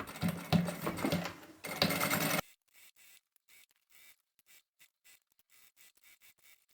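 A sewing machine stitches a seam on a fabric shopping bag, a fast loud mechanical whir for about two seconds, then stops, followed by a run of faint short clicks and ticks.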